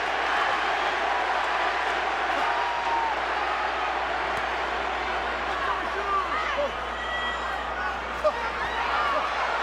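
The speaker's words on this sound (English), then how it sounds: "Crowd wanting to see the knockout." Boxing arena crowd at a Pacquiao fight, a steady roar of spectators cheering and shouting for a knockout, loud and constant, with a commentator's voice over it.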